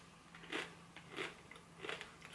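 Three crisp bites into organic kale chips, each a short crackling crunch spaced evenly about a second apart, close and fairly quiet with no talking.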